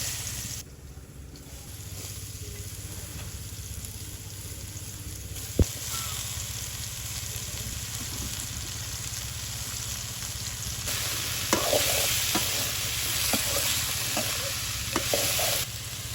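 Cut potatoes fry in hot oil for a village-style duck curry, a continuous close sizzle that swells louder near the end, with one sharp knock partway through.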